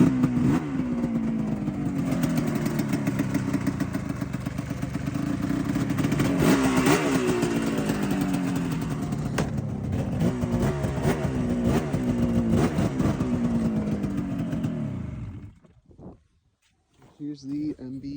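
Yamaha SRX 700 snowmobile on its stock exhaust, engine revving loudly and continuously with rising and falling pitch for about fifteen seconds before cutting off abruptly.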